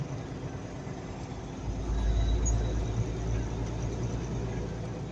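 A truck rolls along the road from inside the cab, a steady low rumble that swells louder partway through, with faint speech-like sound mixed in.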